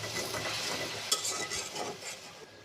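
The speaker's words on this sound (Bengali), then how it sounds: "এখন পানি দিয়ে দিই।" Ginger-garlic paste frying in a pan for an egg curry hisses and sizzles as water goes in, with steady stirring and a sharp clink of a utensil partway through, close and continuous.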